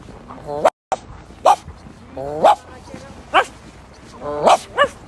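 A person imitates a dog barking, producing a series of short, loud woof-like yelps spaced about a second apart, close to the listener, with a brief gap of silence early on.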